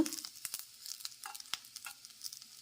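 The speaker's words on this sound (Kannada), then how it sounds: "ಇಲ್ಲಿ ನೀವು ನೋಡ್ಬೋದು ಮಟನ್ ಎಣ್ಣೆಯಲ್ಲೇ ಹುರ್ಕೊಳ್ತಾ ಇದ್ದೀವಲ್ಲ" Mutton frying in oil in a pan for a hotel-style mutton sambar, with crisp intermittent sizzles and spattering pops over a quiet background, close and fairly soft.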